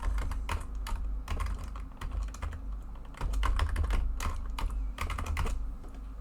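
Someone types a password on a computer keyboard, producing brisk irregular clusters of key clicks over a constant low background hum, with short pauses between bursts.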